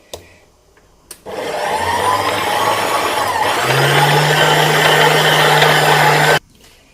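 A kitchen machine kneads burger bun dough with milk, its motor starting abruptly and holding a steady, loud whirring drone for about five seconds before cutting off, with no talking.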